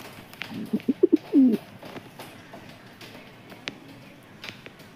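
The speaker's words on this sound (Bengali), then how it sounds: "সবুজটা ছেলে পায়রা আর এই মুন্নিশাটা মেয়ে পায়রা" Pigeons of the Kalanka and Madrasi breeds coo in a short run of soft, low calls early on, then quieter background rustle with a few faint clicks.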